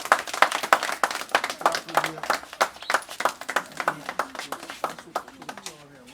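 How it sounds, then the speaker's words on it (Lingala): Audience clapping together in tribute to the memory of Papa Sans Souci, a dense burst of applause with a speaking voice running underneath, thinning out toward the end. "Est-ce que tous ensemble, on peut applaudir la mémoire de Papa Sans Souci, s'il vous plaît?"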